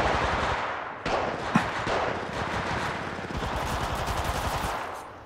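Sustained automatic gunfire in Apex Legends Mobile, a dense rapid rattle of shots running almost the whole way through, close and loud, with one sharp crack standing out early on.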